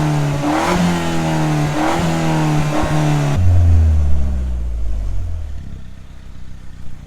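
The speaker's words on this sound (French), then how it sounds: "Tu veux que je te fasse écouter le bruit de ma ligne d'origine?" A stock exhaust on a Peugeot 208 GTI revs loudly and up close in several sharp blips, then drops into a lower, rumbling idle that settles and fades.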